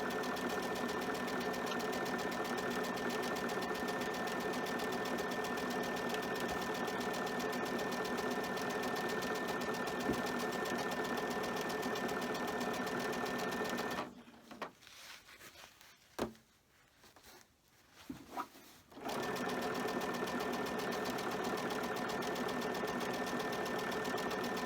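A sewing machine stitches a door draft stopper in a long steady mechanical hum, stops briefly for a few seconds of quiet handling clicks, then resumes running continuously.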